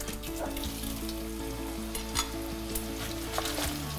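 Onions frying in oil for chicken biryani, a steady close sizzle with crackling bubbling that runs unbroken, with faint stirring scrapes and no talk.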